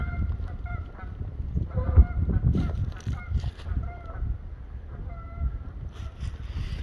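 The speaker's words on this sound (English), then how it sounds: "Yep, 2 Canadian geese." Two Canada geese honk overhead in short, repeated calls over a low outdoor rumble, clear and fairly near, with no talking.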